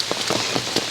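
Rain falling in a forest during a summer rainy-season hike, a steady patter of drops on leaves and ground with a few sharper nearby splats, even and close.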